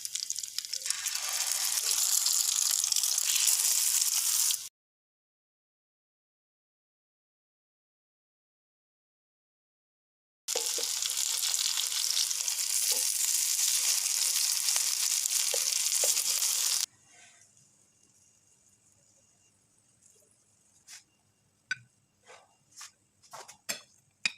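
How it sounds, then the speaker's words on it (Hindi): A second batch of chicken vegetable kebabs fries in oil, heard as a dense, even sizzle in two stretches broken by silence, followed by quieter scattered clicks and knocks. "इसी तरह हम सेकंड बैच भी फ्राई कर लेते हैं।"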